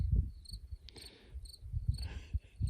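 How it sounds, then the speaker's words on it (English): Crickets chirp in a garden at night, giving faint, high, repeated pulses at a steady rhythm over low rumbling background noise. "He just hears the crickets."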